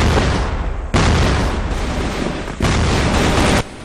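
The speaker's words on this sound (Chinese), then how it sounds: "各种手雷，我连续看到了应该有五六颗手雷同时爆炸" Grenades explode one after another in the game CrossFire: three heavy, loud blasts, each followed by a long, dense roar of noise that continues right into the next one.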